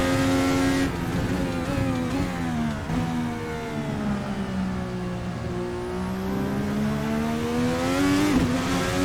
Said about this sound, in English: So I'm having such a good time here in this NA 2021. I don't drive this car nearly enough. Love me some IndyCar.